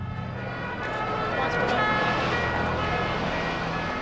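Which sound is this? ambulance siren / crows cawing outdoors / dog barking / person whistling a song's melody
ambulance siren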